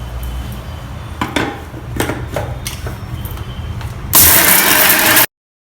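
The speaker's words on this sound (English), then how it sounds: "Again we'll allow this to cool and blend it in the mixer with the addition of salt." A mixer grinder whirs into loud, steady grinding of chutney for about a second near the end, after clattering spoons and utensils being handled in a kitchen.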